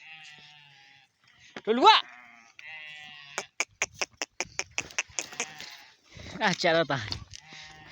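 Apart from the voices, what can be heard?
sheep bleating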